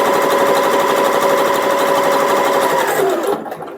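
A sewing machine runs steadily at speed, stitching a travel organizer with a close, loud, even whirring hum for about three seconds, then slows and stops.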